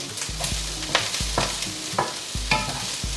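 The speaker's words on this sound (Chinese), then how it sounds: "持續的翻炒，讓它變得比較深的顏色。" Fresh corn kernels being stir-fried for vegan fried rice, with repeated scraping strokes of a spatula against the pan roughly every half second over a steady, close sizzle.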